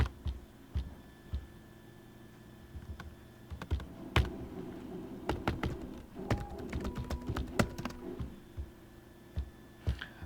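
Someone types a search into a computer keyboard, a run of quick uneven key clicks with a few louder taps, close and alone with no talk.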